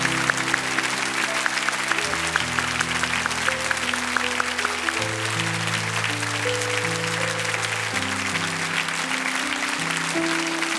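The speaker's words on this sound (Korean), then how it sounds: "우리 한 번 더 큰 박수로 축복합니다" Steady applause from a church congregation fills the space, dense and even throughout, with music or a sustained tone running underneath.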